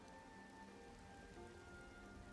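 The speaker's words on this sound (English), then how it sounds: "It's a rainy day here in Skyrim." Steady rain ambience falls in the video game Skyrim, a soft continuous patter of drops on surfaces, quiet and even throughout.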